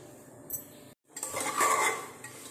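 Oil-free ghugni is stirred and dry-roasted in a pot over a raised gas flame, with metal spoon clinks and scrapes against the pot, a short gap, then a louder stretch of scraping and soft sizzle.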